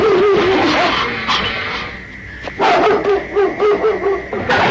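Dogs bark and yip repeatedly in a forest setting, a loud, busy run of overlapping barks with a brief lull midway before the barking picks up again close by.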